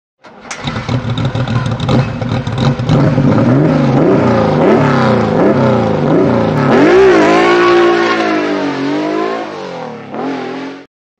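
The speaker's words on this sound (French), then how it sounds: "Le bruit des Porsche il vient de là." A Porsche flat boxer engine revs repeatedly, the pitch rising and falling in rhythmic surges before one long climb and a settle, loud and close with no talk over it.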